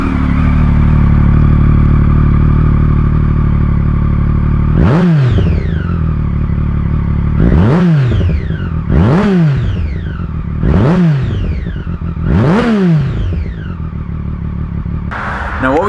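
A motorcycle engine idling steadily, then revved in five or six quick, sharp bursts that rise and fall back to idle, loud and close.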